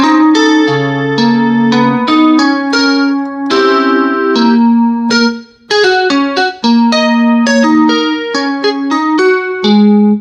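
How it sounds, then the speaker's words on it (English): A clean, bright lead guitar tone played on a Casio CT-S1000V keyboard, a melodic line of sustained single notes and short phrases, loud and without talking. "Now we are in the lead guitar, so clean lead guitar."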